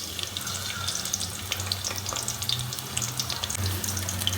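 Prawns added to hot oil for a Bangladeshi mashkalai dal fry with a steady, crackling sizzle and spitting close by, lasting the whole stretch without talk.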